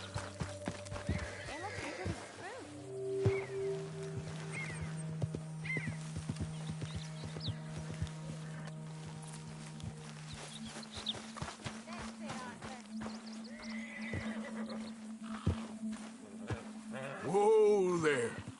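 Horse in the Red Dead Redemption video game, whinnying with clip-clopping hooves, several neighs including a loud one near the end, mixed with game sounds and someone talking.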